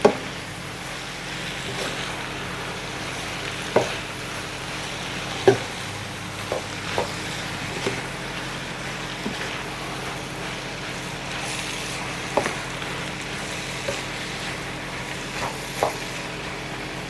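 Chopped garlic sizzles in a hot soup pot, a steady close frying hiss that runs throughout, broken by occasional soft knocks and stirring taps.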